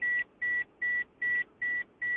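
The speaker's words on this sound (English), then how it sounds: "That shit won't stop beeping for the next 10 seconds." An electronic device beeps in a steady series of six identical tones, each about a quarter second long with short even gaps between them. The beeps are clear and fairly close, with no talking over them.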